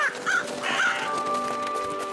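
A cartoon raven caws in a few quick, close calls at the start of an animated Yakari episode, followed by a faint steady tone and background hum, with no voices.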